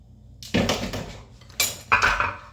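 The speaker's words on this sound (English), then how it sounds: "Here is that Twinkie pan that I've greased." A greased metal Twinkie baking pan is handled, giving a few sharp clanks and rattles of metal on a hard surface, fairly close, with short bursts separated by brief pauses.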